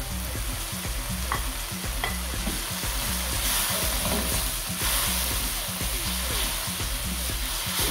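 Spices frying in a pan for Thai curry hiss and sizzle up close while being stirred, with repeated scraping strokes cutting through the steady crackle.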